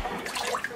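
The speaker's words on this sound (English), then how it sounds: "Go ahead and release this water." Grimy bath water drains from a tub after a dog's wash, a brief, close gurgle and trickle of liquid.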